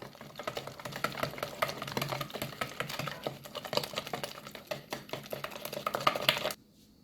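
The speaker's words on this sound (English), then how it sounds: "adding our eggs, and I'm going to just whisk that" A whisk beats eggs and sugar in a bowl for banana bread, making a fast, steady rattling clatter against the sides that runs several seconds close up and then stops abruptly.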